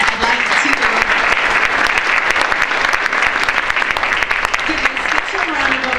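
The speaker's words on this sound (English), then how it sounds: "give a special round of applause to Liz Kellner from Singleton Law Firm" Loud, dense applause from the audience at a community innovation celebration, continuous throughout with some voices mixed in.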